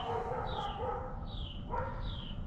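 Dogs yelping and whining at a distance during a fishing outing, a few high, drawn-out cries repeating over steady outdoor background noise, faint and without talk.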